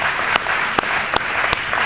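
An audience at an award ceremony applauds, a dense, steady wash of clapping with a few louder individual claps standing out, close and continuous with no talking.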